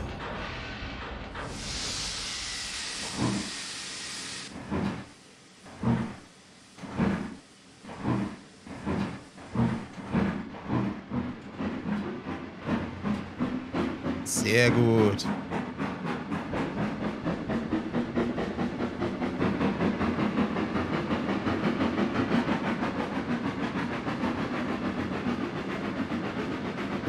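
A class 50 steam locomotive in Trainz 22 pulls away with a hiss, then slow, heavy exhaust chuffs that speed up into a rapid, continuous beat with rolling wheel noise. A brief voice comments partway through.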